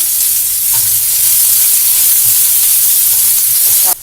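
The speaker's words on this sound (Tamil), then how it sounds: "இதுல இதை வந்து எண்ணெயில நல்லா வதக்கிக்கலாம்" Steady, loud sizzling and crackling of onions and green chili sautéing in hot oil, continuous throughout with occasional soft stirring scrapes.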